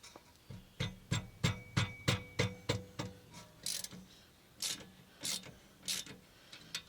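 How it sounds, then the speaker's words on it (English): A ratchet wrench loosening 13 mm rear brake caliper bolts on a 2019 Honda Odyssey, a close run of even metallic clicks, then a few slower scraping clicks with pauses. "This is a 13 millimeter, so you got 2 bolts you got to take out."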